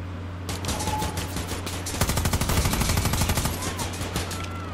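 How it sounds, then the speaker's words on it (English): Sentry gun firing in the video game Far Cry 6, a dense, rapid automatic burst that grows heavier and continues steadily over a constant game background hum, loud and close. "There's a fucking sentry gun now?"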